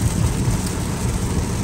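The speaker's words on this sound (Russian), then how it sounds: "Мне кажется, вот дождь пошел." Rain begins falling on a Volkswagen Atlas (Teramont), a dense steady patter on the car's body heard from inside, loud and continuous.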